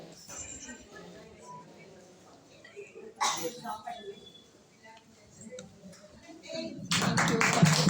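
Applause breaks out at a 75th birthday gathering at a community centre, a dense burst of many hands clapping that swells in the final second after quiet murmuring and a few scattered sounds.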